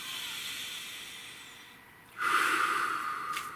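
A slow, deep breath, a soft drawn-in inhale fading quietly, then a louder hissing exhale close to the microphone.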